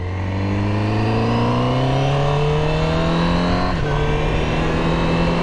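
A 2020 Honda CBR1000RR-R SP sportbike rated at 217 hp accelerates hard, its engine note climbing steadily in pitch, dipping briefly at a gear change near the end, then rising again, loud and close with no talk.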